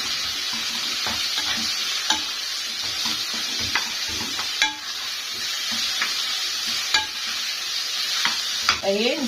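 Meat sautés in a pan with a constant bright sizzle, punctuated every second or two by a sharp scrape or knock of the spoon as it is stirred, close up and without talk.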